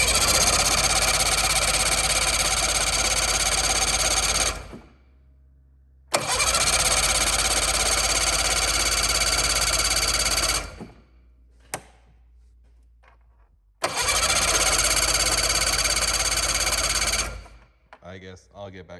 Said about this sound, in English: Caps on and turn it over and see if she will fire